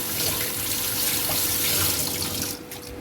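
Tap water runs steadily into a sink over cooked pasta, a close rushing stream that eases slightly toward the end.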